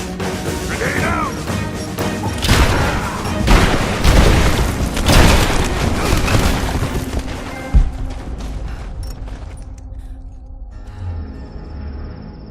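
Heavy booms and crashing blasts from a grenade going off in a Rise of the Tomb Raider firefight, loud and repeated over several seconds before fading into quieter rumble and a faint tone.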